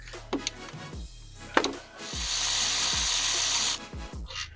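Hand tools work on the top alternator bolt of a BMW E92 M3, giving close metallic clicks and taps, then a sustained rasping whir for about two seconds, followed by a few more light knocks.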